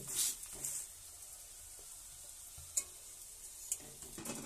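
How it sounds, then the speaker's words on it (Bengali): Fish roe fritters frying in oil, a steady soft sizzle with a few light clinks of a utensil against the pan, close by and with no talking. "ভাজা হোক, ভাজা হলে খাবো।"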